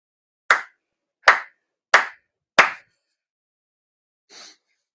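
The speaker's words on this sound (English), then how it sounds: "4 sincere claps." Four sharp ritual hand claps in a Konko faith New Year prayer, evenly spaced and crisp in a quiet room, followed by a fainter short sound after a pause.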